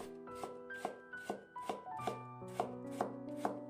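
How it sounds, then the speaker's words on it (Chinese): A knife chops radish into thin strips with about nine even, crisp strokes on a board, close and rhythmic, over soft background music. "再改刀切成细丝，"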